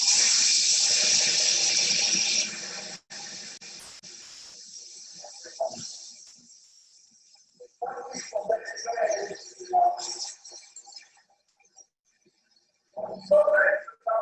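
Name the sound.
water running from plumbing fixtures in demonstration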